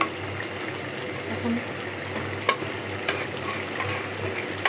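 Pumpkin vine tips with shrimp cooking in a pan, a low steady sizzle with occasional stirring scrapes and clinks, close and continuous without talk.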